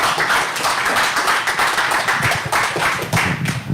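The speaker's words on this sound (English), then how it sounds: "Can we get a round of applause for the candidates?" Brief burst of clapping from a small audience at a mayoral candidates' policy forum, dense and steady for a few seconds.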